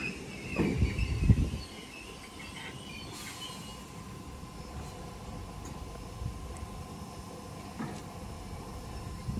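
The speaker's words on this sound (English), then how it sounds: "We have another terminating 508 from Southport" A Merseyrail class 508 electric train terminating from Southport pulls into a station, with a brief clunking burst of wheels and couplings, then a low steady hum and faint hiss as it settles.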